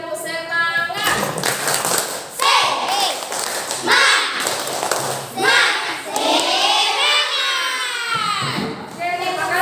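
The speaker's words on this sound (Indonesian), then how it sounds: "coba sekarang tepuk semangat" A group, sounding like schoolchildren, does a rhythmic spirit clap in a room, sharp patterned claps mixed with loud shouted chanting voices in unison.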